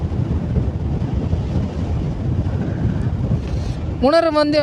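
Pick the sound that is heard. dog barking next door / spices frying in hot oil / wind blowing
wind blowing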